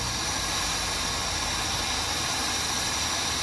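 Steady, loud broadband hiss of steam pouring from an overheated 1997 BMW 528i E39 engine, continuous and close with no pauses throughout.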